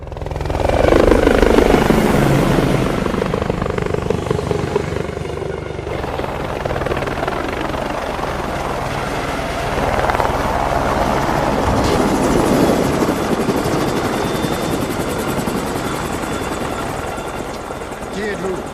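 A helicopter's loud rotor roar and engine whine dominate throughout, swelling at the start and holding steady, with voices faintly underneath.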